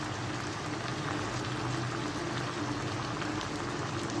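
Chicken drumsticks frying in a pan, a faint, steady crackling sizzle with no pauses and no voices.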